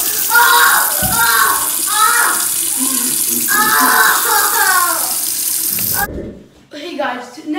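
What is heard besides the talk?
hot water running from a tap into a bathtub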